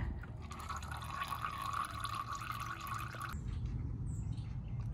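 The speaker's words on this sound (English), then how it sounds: "So it's pretty much done draining, just dripping" Oil drains and drips from the engine of a 2002 Toyota 4Runner during an oil change, a soft steady trickle with faint drips, fairly quiet and close, easing off toward the end.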